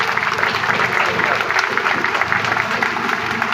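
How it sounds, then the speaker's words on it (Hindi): Crowd applause at a village celebration of Dr. Bhimrao Ambedkar Jayanti, steady and fairly close, with voices mixed into the clapping throughout. "तालियां बजती रहे साथियों।"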